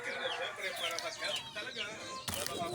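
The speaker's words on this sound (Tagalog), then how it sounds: "Istorbo ng mga manok." Chickens cluck and squawk nearby in a busy, overlapping flock, with a sharp burst of noise near the end.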